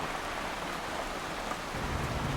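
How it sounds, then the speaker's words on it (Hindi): Heavy rain pours steadily outdoors, a dense, continuous hiss with a low rumble that swells slightly near the end; no voices. "क्योंकि बाहर बहुत सख्त बरसात है।"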